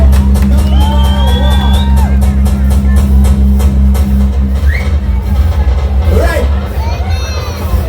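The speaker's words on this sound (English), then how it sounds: "Big round of applause." Audience at a Miss Amerindian Heritage Queen pageant erupts in loud applause, whoops and shouted cheers, a dense, rhythmic clapping with excited high voices and a steady hum beneath, fading slightly toward the end.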